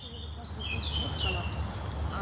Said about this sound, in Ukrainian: Я прислуховуюсь, як пташки співають, ввечері пташки.